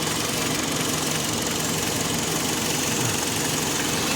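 A 2011 Kia Sorento SUV idles with its air conditioning compressor clutch engaged, giving a steady, close mechanical drone with a faint ticking rattle that stays constant throughout, with no talking.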